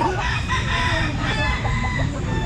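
An eleven-month-old young rooster, a bull stag, crows loudly and close at a pet market, its drawn-out call layered over busy market noise and clucking fowl.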